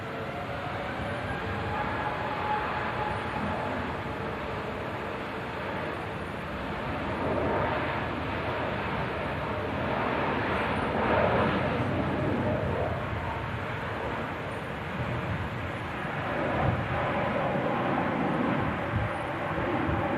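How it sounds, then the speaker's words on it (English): Ryanair plane arriving from Reus at Manchester Airport on a windy day, a steady broad jet roar with wind noise that swells gently and holds at a distant, even level, no talk. "This is the Ryanair coming in from Reus."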